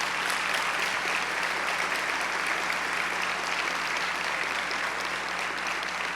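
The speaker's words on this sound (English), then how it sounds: "So please now applaud the 2020 winners." Sustained applause from a large audience at a school district event honoring 2020 award winners, a steady dense wash of clapping throughout with no talk over it.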